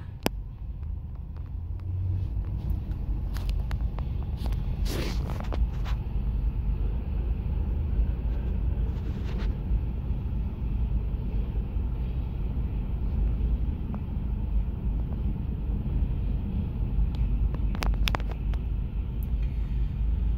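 Freight train cars, including a lumber car, roll past at Hamilton, Ohio, making a steady low rumble that holds evenly throughout, with occasional sharper clanks and squeals near the start, around five seconds and near the end.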